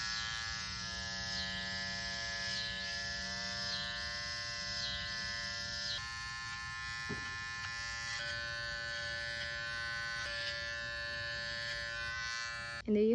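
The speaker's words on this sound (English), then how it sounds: "Go in and shave his pads." Electric clippers trim the paw pads of a Cavalier King Charles Spaniel, a steady close buzzing hum that shifts slightly in tone as the blade presses into the fur, with a brief knock near the end.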